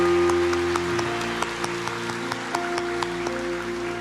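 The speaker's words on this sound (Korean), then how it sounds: "다시 한번 학습 세례 입교자분들께 우리 축하의 박수를 드리겠습니다" Church congregation applauding to congratulate newly baptized members, a burst of clapping that fades into scattered claps over a sustained organ or keyboard chord.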